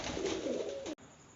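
A domestic pigeon gives a deep, throaty coo close by, one drawn-out rolling call lasting about a second before cutting off abruptly.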